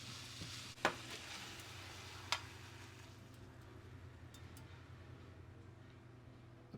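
Polish sausage and onions frying in a pan, a quiet steady sizzle with two sharp clinks of a utensil against the pan early on, then continuous low crackling.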